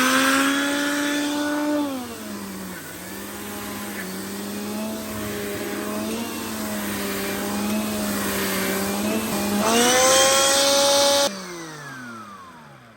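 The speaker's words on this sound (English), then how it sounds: "Time to test out the anti-hair wrap plus mini turbo brush." A Shark Stratos vacuum cleaner fitted with an anti-hair wrap mini turbo brush runs with a steady, close, high motor whine whose pitch dips and rises slightly before it cuts off near the end.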